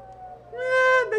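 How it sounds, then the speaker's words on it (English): An emergency alert siren similar to an ambulance wail sounds a single rising, tonal sweep with a few harmonics, loud and up close, cutting off after about a second. "This sounds like an ambulance that I hear outside"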